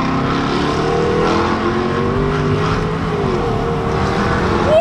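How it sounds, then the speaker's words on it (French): A 550-horsepower Jaguar car engine roars loud and close, holding a throaty drone before rising in pitch near the end, with no voices over it. "Ce qui m'épate sur cette voiture, c'est vraiment la sonorité qui est juste impressionnante."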